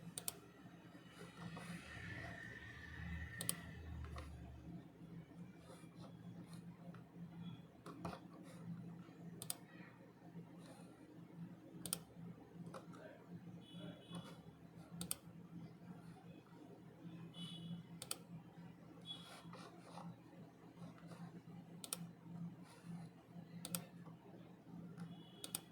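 Faint computer keyboard typing and mouse clicks in a quiet room, scattered irregular taps through the whole stretch with no talking.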